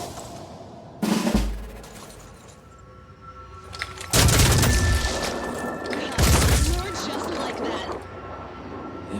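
Weapon fire in the Phoenix Point tactical video game, including a shotgun on overwatch, comes as several heavy booming bursts spaced a few seconds apart. Mechanical clanks and low rumble sit between the shots.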